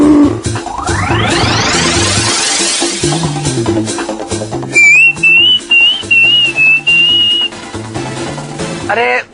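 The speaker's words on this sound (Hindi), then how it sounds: "आप सीटी क्यों बजा रहे हो?" A whistle blown in a Hindi TV comedy serial scene gives one shrill, slightly warbling tone lasting a few seconds mid-clip, heard over loud background music with sweeping tones and no talk.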